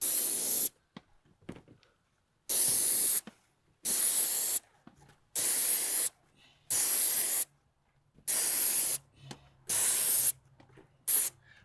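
Airless paint sprayer blasting paint under roof soffits in repeated bursts of about a second each, loud steady hiss separated by short silences.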